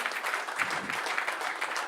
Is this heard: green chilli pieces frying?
no